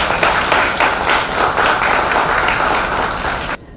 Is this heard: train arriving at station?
no